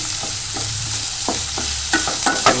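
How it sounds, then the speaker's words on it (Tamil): Tomatoes and onions sauté in a pan for an ivy gourd stir-fry, a loud continuous sizzle and crackle up close with a spoon stirring and scraping in irregular strokes, no voices. "நல்லா வதக்கிடுங்க பாருங்கள் தக்காளி நல்லா வதவிடிச்சு"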